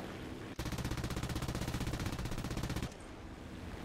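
Rapid machine gun fire from an I-15 biplane in War Thunder, a loud sustained burst of dense regular shots lasting a couple of seconds, with engine drone before and after.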